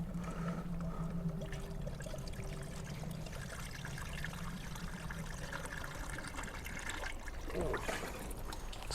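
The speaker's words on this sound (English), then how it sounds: "I must be hearing bubbles coming out" Coolant trickling and bubbling steadily into a BMW 335i N54 cooling system through a funnel, a continuous gurgling flow with a slight splash near the end.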